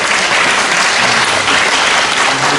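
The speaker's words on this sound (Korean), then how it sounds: "박수." A church congregation claps steadily during a Sunday service, a dense, loud round of applause filling the room without pause.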